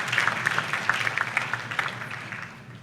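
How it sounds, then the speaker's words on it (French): A round of applause from an audience at a law fair opening ceremony, with brisk, distinct claps that gradually thin out and fade toward the end. "Sous vos applaudissements,"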